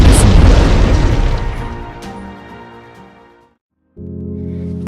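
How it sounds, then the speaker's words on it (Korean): A North Korean artillery shell explodes on Yeonpyeong Island: one loud, close boom that rolls off slowly and fades into silence, followed by a low steady tone. "대피소 안에서도 폭발 소리는 계속 들렸고"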